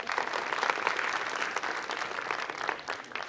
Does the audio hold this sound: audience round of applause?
yes